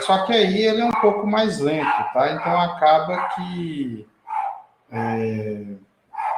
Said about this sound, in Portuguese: se vocês estiverem ouvindo um cachorro gritando loucamente aí